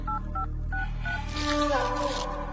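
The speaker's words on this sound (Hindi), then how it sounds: "फोन लगा उसको" A telephone number is dialed on a keypad. Several short two-tone beeps come one at a time with small gaps between them, then a steadier tone follows as the call begins, all heard up close and alone.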